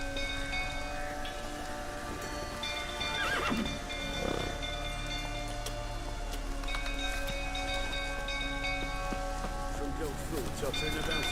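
A horse whinnies a couple of times in the rain in the video game The Witcher 3: Wild Hunt. Steady rainfall patters underneath throughout.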